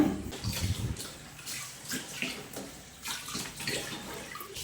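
Tap water runs and splashes in bursts as raw beef is rinsed in a kitchen sink, an irregular close-up gushing and sloshing with brief pauses between pours.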